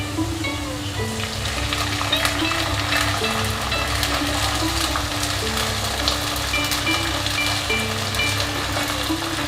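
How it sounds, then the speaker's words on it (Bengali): Soaked sago goes into a hot pan for khichdi and fries with a steady, close crackle and patter that lasts the whole time. A repeating melodic tone rings faintly underneath, and no one speaks. "এর মধ্যে আমি ভিজিয়ে রাখা সাবুটা দিয়ে দেব।"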